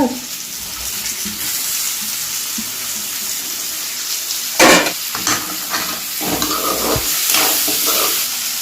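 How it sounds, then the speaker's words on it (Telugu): Boiled potatoes with a little turmeric are mashed in a hot pan for puri curry, giving scraping, squelching stirs and a soft sizzle, with a louder burst of mashing partway through and rhythmic pressing after. "ఇప్పుడు ఈ బంగాళదుంపల్ని ఇలా ఇలా మెదుపుకోవాలన్నమాట"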